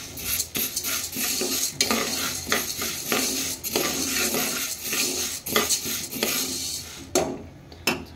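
Legumes being dry-roasted in a pan, stirred steadily with a utensil scraping the metal in repeated strokes, dry rattling and faint sizzle throughout, close and fairly loud with no talking.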